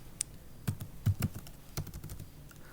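Typing on a computer keyboard while writing Python code with PyAutoGUI, a sparse run of close, crisp key clicks at an uneven pace, alone without talk.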